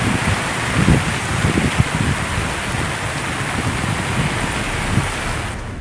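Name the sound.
waterfall roaring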